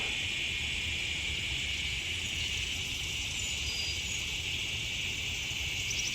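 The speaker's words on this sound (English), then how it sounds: "I think those are swamp cicadas." Swamp cicadas drone in a continuous high-pitched buzz at Iroquois Park on a September morning, steady and fairly loud, filling the air without pause or voices.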